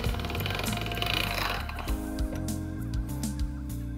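A pasta machine rolls out fresh dough with a steady mechanical whirring hum that shifts pitch partway through, with a few soft knocks near the end.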